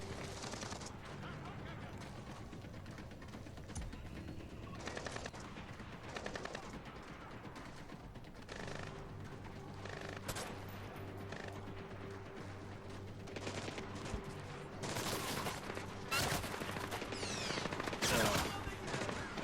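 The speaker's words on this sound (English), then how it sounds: "Come over here and shoot him in the face." Gunfire in Splinter Cell Blacklist comes as repeated rapid bursts and single shots throughout, growing louder toward the end, with a player's voice talking over the action.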